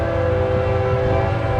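A BNSF Railway locomotive passes close by in Spokane, its horn blaring a loud, sustained multi-tone chord over the heavy rumble of the train.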